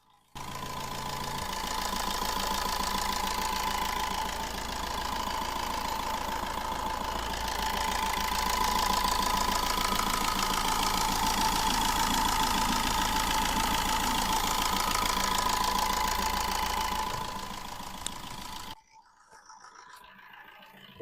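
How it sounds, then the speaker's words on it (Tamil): A 2013 Tata Indica Vista's engine idles with the microphone held near it, a steady mid-pitched hum with a faint knocking rhythm that runs evenly for about eighteen seconds before cutting off into quiet. "இப்போ வண்டியோட இன்ஜின் நாய்ஸ் நான் உங்களுக்கு மைக்கை பக்கத்தில் வச்சு காட்ட போகிறேன்"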